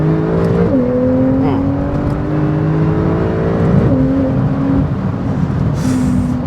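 A 2018 Porsche 911 Carrera S engine heard from inside while driving, loud and steady, with several quick downshifts that jump the revs up before each pull, under constant road and wind noise.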